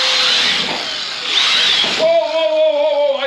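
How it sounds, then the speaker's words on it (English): A high, whining power tool runs steadily, its pitch dipping and rising, then settling into a lower droning hum. "They're power tools."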